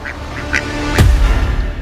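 A duck quacks loudly and close, one strong honking call after a few softer, higher bird notes, with no talking over it.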